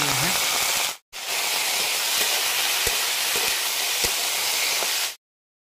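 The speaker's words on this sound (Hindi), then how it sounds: "पहले हम लोग आलू को फ्राई करते हैं" Potatoes frying in a pan with onion and chili during rural village cooking give off a loud, steady broadband sizzle that cuts out briefly near the start and then stops abruptly at the end.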